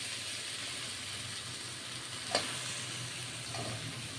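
Mango pieces fry for pickle in a pan with a steady, close hiss of sizzling oil, a single light knock of a utensil partway through, and no voices.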